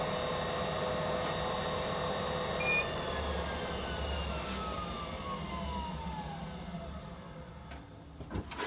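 A Coronet Herald woodworking lathe runs in forward mode with a steady motor hum and whine that slowly winds down in pitch, close and moderately loud, alone, with a small knock near the end.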